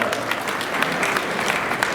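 Applause at an honour ceremony at an institution in Gorakhpur, a steady dense patter of many hands clapping at moderate loudness throughout, with no voices on top.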